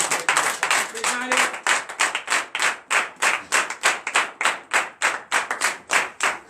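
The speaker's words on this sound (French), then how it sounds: "je vous demande d'applaudir très fort" A church congregation at a Sunday worship service claps loudly in a strong, regular rhythm, sharp hand claps repeating at a steady beat close by, with a voice briefly audible early on.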